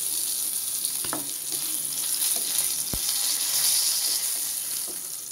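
Fish pieces frying in oil in a pan, a continuous bright sizzle heard close up, with a couple of sharp utensil taps breaking through midway.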